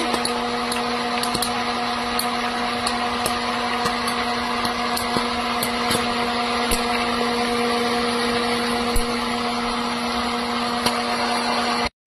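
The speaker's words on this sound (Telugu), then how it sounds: "ఇదిగోండి, పాప్కార్న్ ఎట్లా వస్తుంది చూడండి" An electric popcorn machine running with a steady motor hum and a few faint sharp ticks of kernels popping over about twelve seconds, close and continuous.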